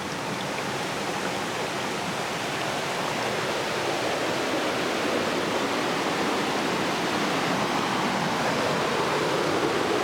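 Water trickling over rock in a gorge, guided by a leaf under a rock, producing a steady, close, broadband rushing hiss that holds unchanged throughout.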